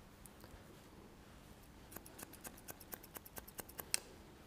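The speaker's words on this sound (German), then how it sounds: "die Texturizer-Schere, die geht natürlich durch wie Butter hier" Texturizing scissors snipping through hair on a punk platinum look in a salon, a quiet run of crisp, close snips that speed up into a steady rhythm, alone without talk.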